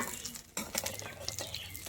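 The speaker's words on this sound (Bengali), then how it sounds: "এইভাবে আমি ভেজে নেব বড়া কাটা।" Small fish roe fritters frying in oil, a brief close crackling sizzle with a sharp scrape or clink of a utensil partway through.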